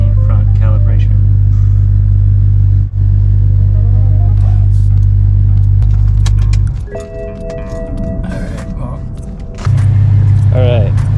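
A BMW E64 6 Series, being worked on for air suspension leaks, runs with a loud, steady low engine drone that drops away briefly mid-clip before returning, with a few light clinks and tones over it.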